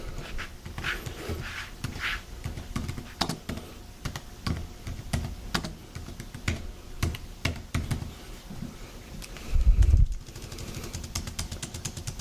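Typing on a Surface wireless Typing Cover keyboard produces a run of quick, light key clicks in an uneven rhythm, close and fairly quiet, with a short low thump near the end.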